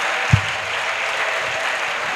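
Applause from a church congregation during a pastoral academy session, a steady broadband patter of clapping throughout with one sharp low thump near the start.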